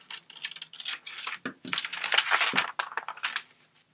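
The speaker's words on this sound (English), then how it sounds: "You can then go ahead and cut off your seam allowance." Scissors snip through fabric along a seam line in quick, close crisp cuts with a soft papery crunch, fairly quiet and uneven in rhythm.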